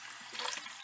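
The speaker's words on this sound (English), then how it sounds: "But fill it up with some water" Tap water runs in a steady hiss as it fills the reservoir of a steam iron, a short close pour with no speech.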